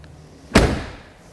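A single firm slam as the trunk lid of a Mercedes SL 560 R107 is shut, a close, solid thud with a brief ringing tail amid quiet surroundings.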